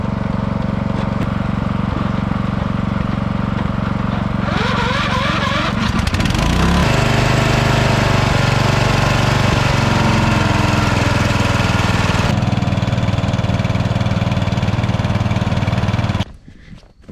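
A jump-started engine, boosted from a lawnmower battery, runs steadily and loudly close by for about sixteen seconds, its rough idle rising and shifting partway through before cutting off abruptly at the end.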